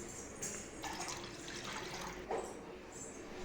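Water is poured into a pan of prawn curry cooking with coriander powder and garam masala, soft splashing and trickling in a few short bursts at low level.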